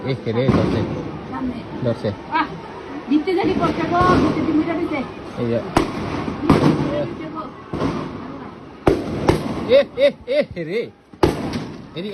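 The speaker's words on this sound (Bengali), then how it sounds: "গলির ভিতরে গুলি করতাস গুলি" Sharp gunshots crack in an alley in Bangladesh, a few loud isolated bangs spaced several seconds apart, heard amid agitated shouting and a busy crowd of voices.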